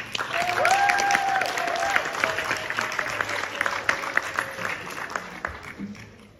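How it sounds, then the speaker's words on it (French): Audience applause at a student eloquence contest in France, a dense crowd clapping loudly from the start and slowly thinning toward the end, with a brief whistled or cheering tone riding over it early on. "Merci de lui faire un tonnerre d'applaudissements"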